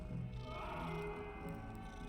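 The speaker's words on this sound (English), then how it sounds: "Aw, you get to pet the cats." A cat in the Hogwarts Legacy video game purrs steadily and closely for a couple of seconds, a soft continuous rumble with no talking over it.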